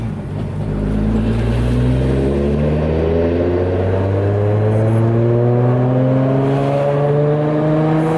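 A Nissan Skyline R32 GTR with a turbocharged engine revs steadily upward, its pitch climbing smoothly with a whirring turbo spool layered over the engine note, loud and close without talk.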